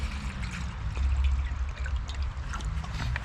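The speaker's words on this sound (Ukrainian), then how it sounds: "Наливаю водички." Water poured into a pot beside a portable gas stove, a steady close trickle and splash lasting the whole span with low rumbling underneath.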